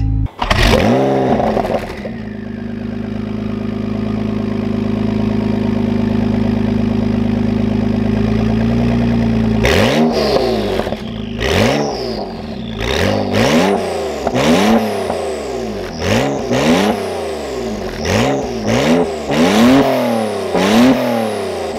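Acura NSX supercar on a canyon drive, engine droning steadily from inside the cabin, then a series of hard accelerations with rising revs and quick gear changes repeating in rapid succession, loud and close.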